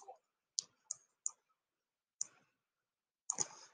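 Computer mouse clicking close by: a handful of crisp, isolated clicks spaced irregularly over a few seconds, with a final, slightly fuller click burst at the end, in an otherwise quiet room.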